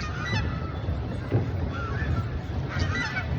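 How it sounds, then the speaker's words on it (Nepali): Ducks honk near a river in Khudunabari, Jhapa, with repeated nasal calls from a few birds over a constant outdoor background. "ओ हाँसपास"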